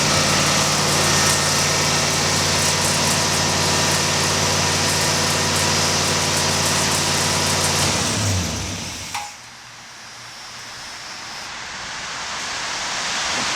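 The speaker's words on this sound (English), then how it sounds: "we're running it pretty high idle to break in the cam." A rebuilt car engine holds a high idle during cam break-in, a loud steady drone with constant tonal hum, which drops abruptly near nine seconds and then a lower rising noise takes over.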